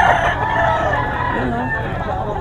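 Gamefowl stag crowing at a farm sale, one loud drawn-out cock-a-doodle-doo close by, with murmured voices underneath.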